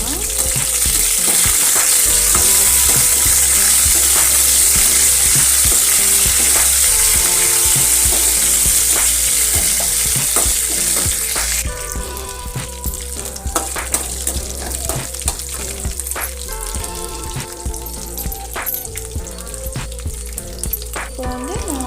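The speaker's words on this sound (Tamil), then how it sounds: "இது கூட இப்போ கருவேப்பிலை சேர்த்து நல்லா வறுத்து விட்டுக்கலாம்." Curry leaves frying in hot oil in a pan for lemon rice, a loud, close, steady crackling sizzle that softens midway while stirring scrapes and taps continue.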